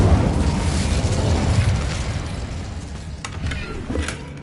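Fire spell cast in Hogwarts Legacy, a loud whooshing roar of flame that swells, then tails off into crackling bursts and pops.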